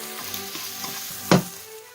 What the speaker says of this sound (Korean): 일단 계란을 볶아줍니다.